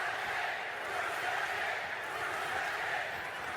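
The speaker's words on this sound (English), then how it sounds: "We also hear a familiar chant from the crowd" A boxing crowd at the Creator Clash 2022 event fills the space with a sustained, fairly distant roar, with a rhythmic chant rising from the mass of voices throughout.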